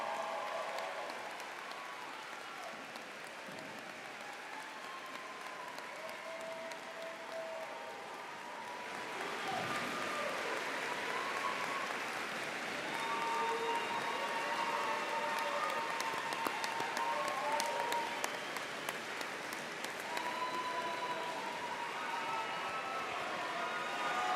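Crowd at a commencement ceremony applauds the graduates in a sustained wash of clapping that swells midway and stays broad and steady, with faint cheering mixed in.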